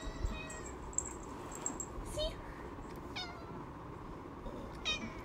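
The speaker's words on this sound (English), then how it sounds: "This is our cat, by the way." Soft, short meows from a house cat indoors, several brief calls scattered over a steady low background hum, fairly faint and close, with people talking quietly nearby.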